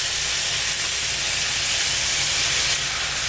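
Water is poured into a hot frying pan where fish skin is crisping, raising a loud, steady sizzling hiss that fills the whole moment without letting up.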